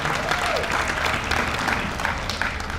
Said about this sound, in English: Let's give them a big round of applause because they put a lot of work into this.